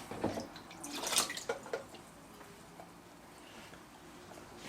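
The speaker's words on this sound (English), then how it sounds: "in the water for a couple of minutes and it's dripping wet" Water drips and trickles from a soaked leather knife sheath, a few close, light splashes clustered near the start and then fading to a quiet background.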